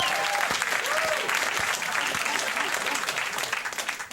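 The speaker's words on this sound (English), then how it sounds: "You're dutifully clapping along." A television studio audience at a late-night talk show claps steadily, a dense, loud wash of applause that holds for several seconds and begins to thin toward the end.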